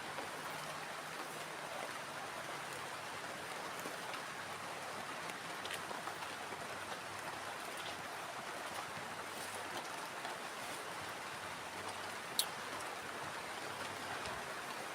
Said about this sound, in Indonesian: Dan ini hujannya semakin lebat banget ya.